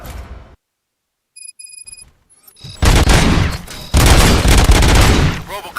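Gunfire in the video game RoboCop: Rogue City: after a brief quiet with faint electronic beeps, a loud burst of rapid shots erupts, followed by a second sustained volley, dense and close.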